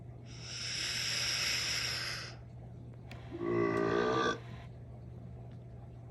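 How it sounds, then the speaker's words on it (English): A person burps loudly after drinking soda to get rid of hiccups, first a long drawn-out belch, then a shorter, rougher one after a pause. "Well, just burp them out."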